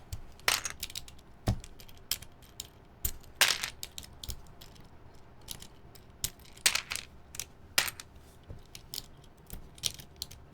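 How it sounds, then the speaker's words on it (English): Mechanical keyboard switches being handled and bagged up: scattered sharp plastic clicks, rattles and crinkly rustles at irregular intervals, close and fairly quiet, with no one talking. "I'm gonna need to grab some more bags so I can bag up previous switches."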